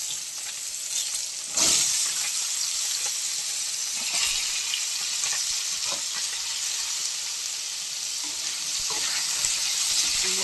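Eggplant, potato and radish frying in hot oil with panch phoron, a loud, close, continuous sizzle with a sharp burst as pieces drop in and occasional stirring clatters.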